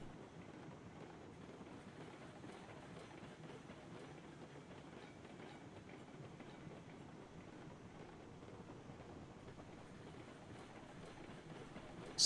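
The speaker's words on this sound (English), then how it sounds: "Hang in there, little train." A small 2-4-0 steam locomotive in the video game Railroads Online hauls a load of cordwood through trees, giving a steady, even rumble with faint rail clatter that holds throughout.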